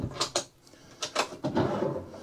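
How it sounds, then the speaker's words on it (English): A small kitchen drawer in a new Swift or Auto-Trail motorhome is opened and closed, giving several quick clacks and sliding rattles of light cabinetry, close by and moderately loud. "And another little drawer."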